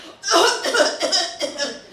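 During a live storytelling performance, a voice imitates a short fit of coughing, several rough, breathy bursts in quick succession, close and fairly loud.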